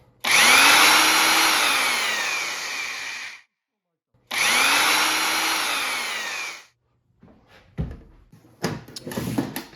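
A large high-torque power drill runs at high speed in two loud, steady whining bursts of about three seconds each, separated by a short pause, with faint knocks and handling noises afterward.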